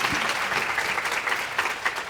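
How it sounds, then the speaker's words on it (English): An audience at an HSA Day 2022 event gives a round of applause, steady, even clapping from a crowd that continues for the full couple of seconds. "Give her a round of applause."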